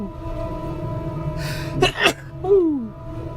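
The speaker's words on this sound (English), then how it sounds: "I gotta sneeze" A person draws a sharp breath, then sneezes twice in quick bursts close to the microphone, followed by a falling vocal groan, all over a steady background hum.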